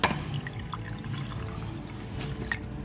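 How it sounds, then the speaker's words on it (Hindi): Cold water poured from a half-cup measure into a jug for a milk sharbat drink, a short close splashing pour with trickles and a few drips. "लेकिन आधे कप के करीब ठंडा पानी डालेंगे"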